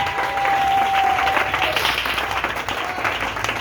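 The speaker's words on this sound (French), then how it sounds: "Acclamons le Seigneur" A worship congregation applauds and cheers in acclaim during a miracle and healing prayer service, dense sustained clapping from a crowd with a few voices rising above, loud and steady throughout.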